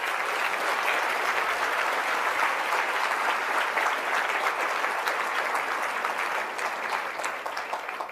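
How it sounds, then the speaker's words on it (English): An audience at a keynote address to the Military Child Education Coalition claps for a NASA administrator, a continuous, even wash of applause, moderately soft and fading slightly toward the end. "Please give him a round of applause."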